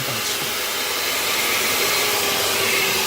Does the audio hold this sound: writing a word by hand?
no